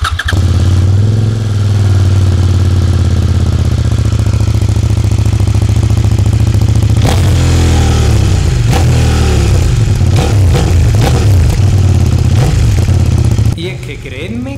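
A CFMOTO 800NK Advanced motorcycle engine on its stock exhaust runs loud and close, a steady deep idle that breaks into sharper revs and blips toward the end.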